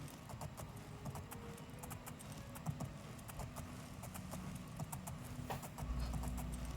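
A horse's hooves clip-clop at a steady walking rhythm in the video game Oblivion, fairly faint and even, with no one speaking.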